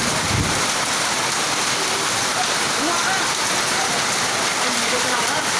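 Heavy hail pelts a surface in Cavite, Philippines, in a dense, loud, continuous roar of impacts, like a hard downpour during a thunderstorm.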